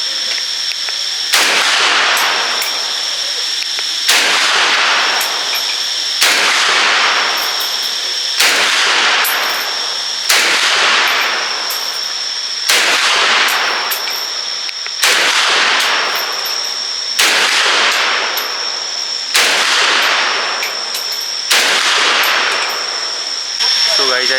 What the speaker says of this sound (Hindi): So guys, I just shot the AK-47.